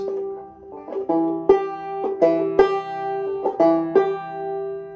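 Close, solo clawhammer banjo drop-thumb picking with sparse, thumb-driven notes over a ringing drone, a loping rhythm with the first and third strings left out.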